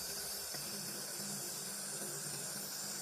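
A laser welder on a CNC machine at a precision museum gives off a loud, steady hiss like a high-pressure air blow, constant throughout with a faint mechanical tone beneath.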